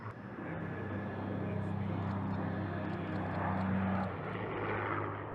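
A large military plane takes off from a runway at an aircraft boneyard, its engines giving a steady, loud droning roar with a sustained hum throughout and faint voices underneath.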